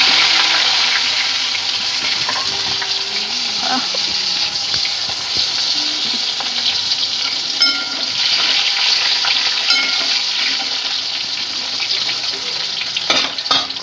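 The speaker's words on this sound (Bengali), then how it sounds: "কুমড়োগুলো ভেজে নিচ্ছি," Pumpkin pieces fry in hot oil with a steady, loud sizzle and crackle, with occasional stirring scrapes in a kitchen preparing vegetables after fish heads for a Bengali pui shak dish; no one talks.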